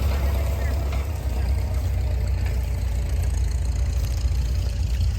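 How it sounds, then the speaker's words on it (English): A 1936 Farmall F-20 tractor pulls a small two-bottom Case plow, its engine a steady, close, low rumble that runs unbroken with no pause. "Ted Whiteman on a Farmall F-20. I believe it's a 1936. And he's pulling a little two-bottom case plow."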